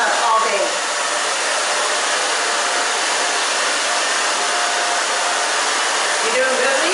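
Handheld hair dryer blowing steadily while drying hair at a salon, a loud continuous close-up whoosh with no break.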